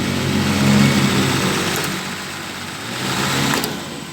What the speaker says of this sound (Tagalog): kita nyo mga viewers o, maandar na ho yung compressor